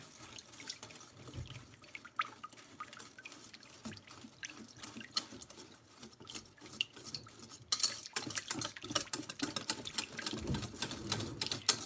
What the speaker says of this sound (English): And then we will whisk it together.